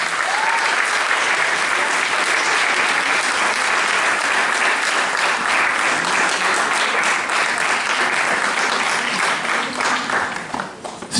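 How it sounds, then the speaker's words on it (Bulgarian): An audience at a pop-rock contest award ceremony applauds, a dense, sustained wave of clapping that carries on steadily for several seconds before tapering at the end. "Аплодисменти!"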